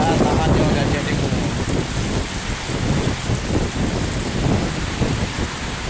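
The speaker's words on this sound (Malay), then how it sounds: "tengah dilanda hujan deras beserta angin" Heavy rain pours steadily with strong wind during a storm, a dense, loud, continuous hiss and roar with no gaps.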